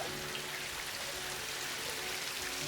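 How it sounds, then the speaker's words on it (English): Rain falls as a steady, even patter with a broad hiss of drops, filling the short stretch without pause or variation and with no voices. "It began to rain."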